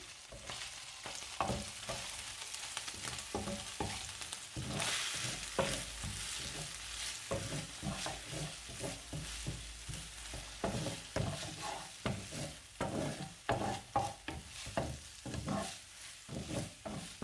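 Cooked fish is stirred and fried in a spice masala with tomato sauce in a pan, a steady sizzle broken by repeated scraping strokes of the spoon, with no talking.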